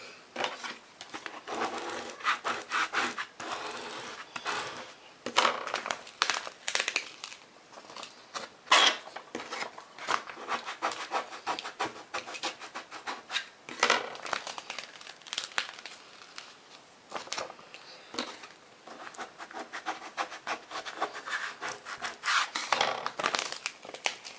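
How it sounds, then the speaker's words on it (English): Vinyl graphic being peeled up onto transfer tape, a continuous crinkling, rubbing rasp with uneven bursts of tearing and crackle, close and steady throughout with no talking. "we're going to peel off everything that's on the vinyl onto our transfer tape"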